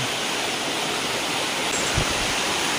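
Ashokjhar waterfall in Jajpur pouring forcefully, a steady, dense broadband roar of falling water that fills the whole clip at an even level, with a brief low thump near the end.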